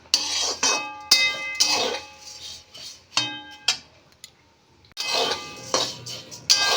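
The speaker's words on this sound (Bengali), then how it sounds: "এই চিড়ে ভাজাটা নাড়ছি" Spatula scraping and clinking against a pan as flattened rice (chire) dry-roasts without oil, a series of sharp metallic taps and scrapes in irregular bursts with brief pauses, close and fairly loud.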